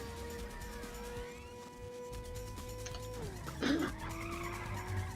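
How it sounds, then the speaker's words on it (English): A race car in the 1995 PlayStation game Ridge Racer skids, its tires squealing against a steady engine whine and synthesized music, with a louder screech burst near the end. "This car accelerates so fast though, like you can make some pretty huge mistakes"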